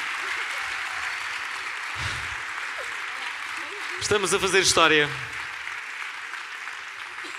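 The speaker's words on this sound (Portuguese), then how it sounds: "É para aplaudir de pé" A studio audience at a Portuguese television entertainment show applauds in a broad, continuous patter under a presenter's excited speech, with a louder burst of talk and cheering partway through.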